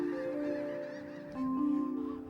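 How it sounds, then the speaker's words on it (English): Coots calling in the Great Valley of California, where wintering flocks gather in huge numbers; steady honking, nasal tones carry on without a break and grow louder partway through. "Those are coots."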